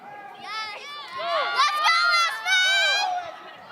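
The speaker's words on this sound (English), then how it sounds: "Let's hear the fan club from Red Deer." At a swim meet, the Red Deer fan club cheers in high, overlapping shouts and whoops, rising in loud bursts above the echoing pool hall.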